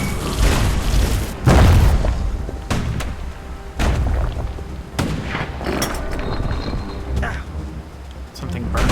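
An explosive boom from a hand grenade in Bastion, loud and heavy near the start, followed by several further bangs and mechanical clatter from the game with a voice speaking over it.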